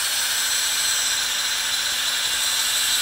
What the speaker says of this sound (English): we used a 1/4-inch bit and then stepped it up directly to the larger 3/4-inch bit.